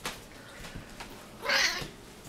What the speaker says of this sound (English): It looks like I have a cat. What's your story, cat? You look kind of hungry.